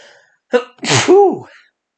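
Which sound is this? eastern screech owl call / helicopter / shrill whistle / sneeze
sneeze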